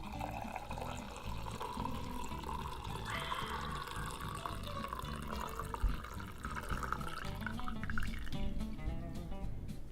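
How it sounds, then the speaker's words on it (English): Freshly brewed coffee is poured from a vessel, a continuous trickling, gurgling stream of liquid at moderate distance with a slight rise in pitch as the cup fills. "And go ahead and pour our beautiful, beautiful coffee."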